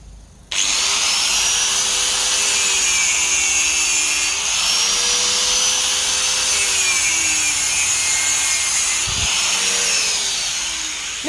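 An angle grinder cuts copper electrical wire for recycling, giving a loud, steady, high-pitched whine and rasp with slight rising and falling swells. It starts abruptly and runs without a break, with no talking.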